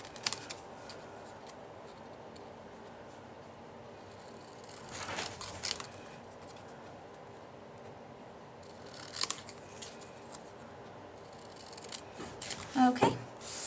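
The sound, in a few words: scissors cutting a candy bar shape out of cardstock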